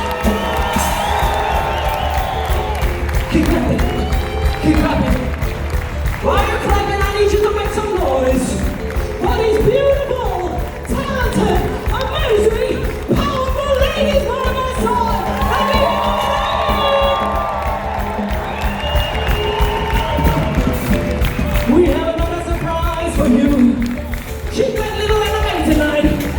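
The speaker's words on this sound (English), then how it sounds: "Keep clapping. Keep clapping." A theatre audience at a musical claps, whoops and cheers loudly and close for a long stretch, shouts and excited voices rising over the steady applause.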